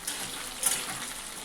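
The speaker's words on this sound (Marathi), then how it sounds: "थोडे गोल्डन ब्राऊन होईपर्यंत आपण तळून घेऊया." Cubes of paneer frying in hot oil until golden brown, a dense bright sizzle with small crackling bursts, steady and close.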